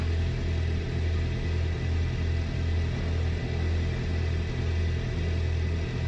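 A Beechcraft 76 Duchess twin-engine aircraft doing an engine run-up before taxi, a loud, continuous, throbbing engine drone with a steady low pulse that holds evenly throughout.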